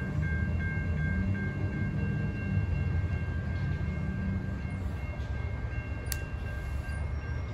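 CSX M214 freight train rolling east toward Jessup, a steady low rumble of cars passing close by with faint tonal squeal and a brief high click near the end, no voices.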